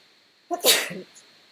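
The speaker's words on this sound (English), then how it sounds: "I'm going to sneeze." A single sharp sneeze bursts out suddenly after a quiet moment, close and loud, then fades quickly.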